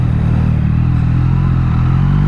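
Tuned 2020 Yamaha MT-09 motorcycle engine runs loud and close with a steady, throbbing low rumble, holding revs evenly through the short stretch.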